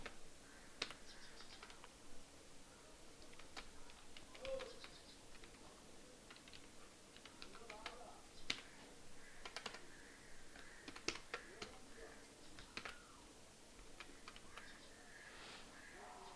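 Names are typed on a computer keyboard in quick, uneven runs of soft key clicks with short pauses, close and quiet in a still room.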